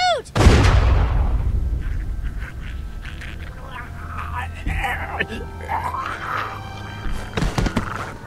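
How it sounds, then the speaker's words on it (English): A single loud gunshot cracks up close in The Walking Dead Season 2 video game, then rings and decays, followed by a quieter stretch with faint background sounds and a few soft thuds. "That shot rang out for miles."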